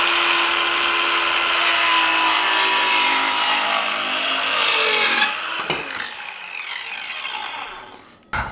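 Power saw cutting through a wooden board for a deck or patio flower planter, a loud, close, sustained high whine for about five seconds, then winding down with rattling as the cut finishes.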